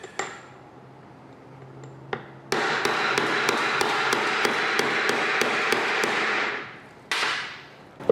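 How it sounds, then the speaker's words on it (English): A hammer taps a seal into the front cover of a 5.3L LS LM7 V8 engine, a run of about a dozen sharp, evenly spaced metallic strikes close by, with a few scattered taps before and after. "you want to hammer it in as square as possible"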